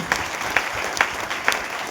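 Steady clapping from a crowd fills the moment, dense and continuous, with a few sharper claps standing out at regular intervals.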